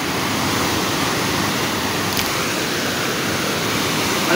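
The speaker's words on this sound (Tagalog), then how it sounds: "Lakas ng alon eh" Strong sea waves surge without pause at a fishing spot, a loud, steady broadband wash of surf with no clear individual breaks.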